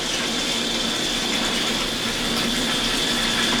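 Tap water gushes steadily and loudly without a break while rice is rinsed in the kitchen for sake-making, a constant close-up splash with no voices over it.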